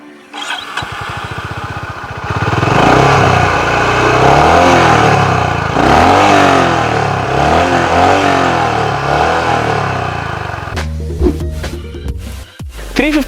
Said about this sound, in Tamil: ஹோண்டா ஐனஸோட எக்ஸாஸ்ட் நோட் பார்த்தீங்கன்னா எக்ஸ்ட்ராடினரியாக இருக்கும்